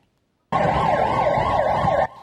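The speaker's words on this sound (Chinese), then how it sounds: "救护车赶到现场，要甲死神抢时间。" An ambulance siren wails loudly and close as it arrives at a shooting scene in Taoyuan, Taiwan, a rising and falling tone that starts abruptly and cuts off after about a second and a half.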